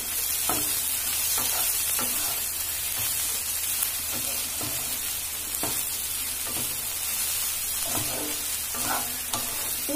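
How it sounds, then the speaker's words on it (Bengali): A spoon stirring a soya and egg roll mixture in a hot pan, with repeated scraping strokes over a steady sizzle and no talk. "আমি কম করে নুন দিচ্ছি। নাড়বো।"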